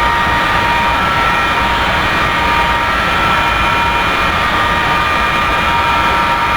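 An F-4E jet engine idling in a DCS flight simulator cockpit, a loud, constant roaring whine with a low rumbling floor and steady high tones, unbroken and even throughout.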